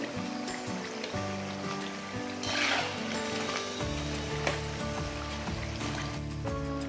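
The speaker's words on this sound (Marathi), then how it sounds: "याच पद्धतीने आपण दुसऱ्या चौराफली फ्राय करून घेऊया" Gujarati chorafali snacks deep-frying in oil, a steady dense bubbling sizzle that fills the whole stretch, with a brief rise in hiss midway and one small clink near the end, under faint background music.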